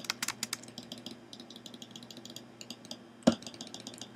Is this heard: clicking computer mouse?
yes